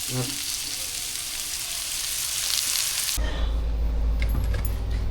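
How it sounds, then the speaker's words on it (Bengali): Vegetables frying in oil in a pan, heard as a bright, crackling sizzle for about three seconds before it cuts to a quieter low rumble with faint clinks. "এই যে সব সবজি ভাজা হয়ে গেছে এবার"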